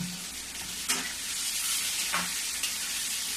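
Finely chopped onions fry with garlic in hot oil in a home kitchen, a steady loud sizzle broken by a few scraping stirs of the pan.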